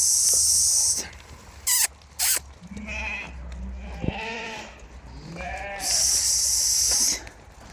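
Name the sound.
Tatalilar breed lambs bleating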